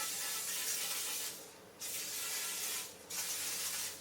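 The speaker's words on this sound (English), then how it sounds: "I'm going to spray it with coconut oil" Close hissing bursts of aerosol coconut oil sprayed onto a pan, three long sprays separated by brief pauses.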